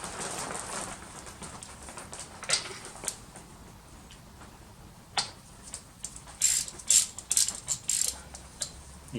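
A ratchet clicking in short bursts while spark plugs are worked out of a Seat Leon Supercopa race car, close and fairly quiet, with scattered metallic ticks and pauses between runs.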